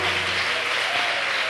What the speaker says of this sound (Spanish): Dele un aplauso fuerte al Señor en esta noche.